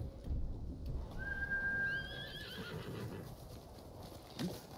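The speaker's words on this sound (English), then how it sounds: "My horse." A horse in the video game Ghost of Tsushima whinnies in a long, rising and falling neigh, with faint hoof thuds and a low rumbling background.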